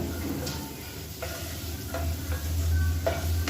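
An egg fries with masala in oil over a medium flame, giving a faint, steady sizzle broken by occasional light spatula scrapes and taps.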